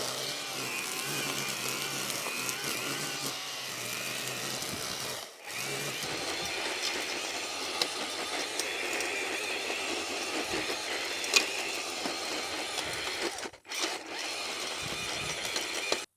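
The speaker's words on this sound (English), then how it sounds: "I've also got my edger to grind up the dirt a little bit" A Milwaukee edger runs steadily at close range, grinding into dirt with a continuous gritty whine that drops out briefly twice, with no talk over it.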